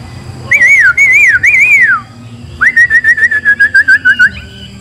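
A wild laughingthrush (khướu) sings loud, close whistled phrases: a rising and falling warble, a pause, then a rapid run of clear repeated notes.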